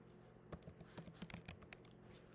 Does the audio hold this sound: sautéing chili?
no